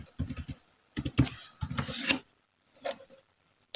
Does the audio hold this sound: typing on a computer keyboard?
yes